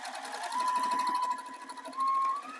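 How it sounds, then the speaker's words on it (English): A sewing machine back stitches across the seam line of a foundation paper pieced zipper pouch, running in two close, steady bursts of rapid stitching with a short pause between. "that's where I'm going to stitch, right across that line. And I do like to back stitch really good here"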